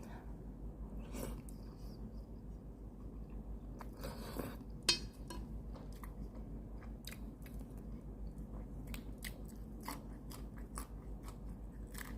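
A whole hard-boiled egg being bitten and chewed close to the mic, with soft, quiet mouth sounds and a few sharper clicks spread across a low, steady background.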